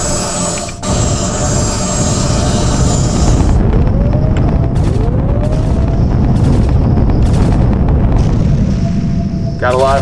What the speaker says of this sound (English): So now I'm going to destroy the ship.